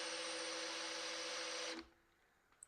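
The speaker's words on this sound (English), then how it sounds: "My drill's getting hot." A power drill that is getting hot runs at steady high speed in a garage, with a strong continuous whine and a sharp stop near the end, followed by quiet and a small click.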